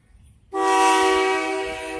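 After a moment of quiet rumble, a grain hopper train's horn blasts in at a grain hopper yard and holds a steady, rich chord, slowly fading a little as it sounds.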